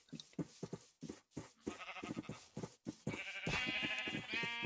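Sheep bleat repeatedly inside a hardcore-mode video game, a run of short nasal calls at first, then a denser, louder stretch of overlapping bleats toward the end, with no talking.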